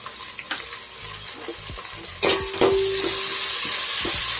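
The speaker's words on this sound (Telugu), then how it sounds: "మొత్తం ఫ్రై చేసుకోవాలి" Prawn biryani masala with coriander and mint fries and is stirred in a pan, a loud close sizzle that swells midway, with scraping stir strokes and a brief metallic ring.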